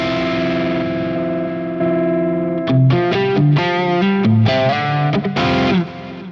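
Distorted electric guitar through a Fractal amp modeler preset: a sustained ringing chord, then a rhythmic run of punchy, effects-laden notes, loud and close with no voice.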